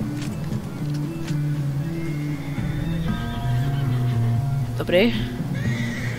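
A horse in Red Dead Redemption 2 lets out a brief whinny amid game sounds and low background tones, with a voice speaking nearby.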